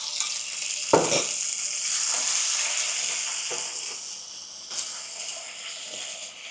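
Black bean sauce sizzles steadily in a hot pan, a bright continuous hiss with a few sharper crackles and stirring knocks, close by and with no talking.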